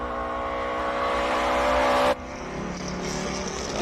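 A well set-up classic Datsun race car on the Simola hillclimb course, its engine droning steadily and loudly before the tone shifts abruptly partway through, as if the car moves past or the view cuts.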